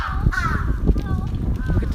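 Crows caw and squabble over frozen salmon near a bear enclosure, with several harsh calls rising over steady low background rumble and faint voices.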